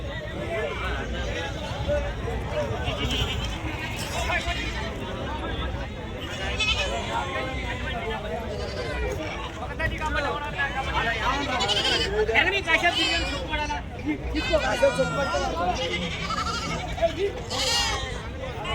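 Goats and sheep bleat over and over at the weekly Saturday livestock market in Chilakallu. A steady crowd babble of people talking runs underneath the animal calls throughout.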